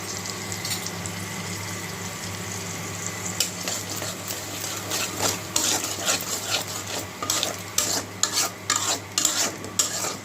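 Eggplant and potato pieces fry with onion paste, turmeric, chili powder and salt in a home-kitchen pan, giving a steady sizzle. A spatula scrapes and clatters in irregular strokes that grow louder toward the end.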